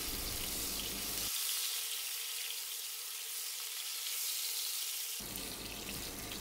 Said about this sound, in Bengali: মাছের পিসগুলো তেলে হালকা ভেজে নিব।